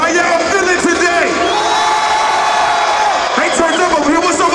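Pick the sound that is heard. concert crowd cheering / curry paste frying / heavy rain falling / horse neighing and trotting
concert crowd cheering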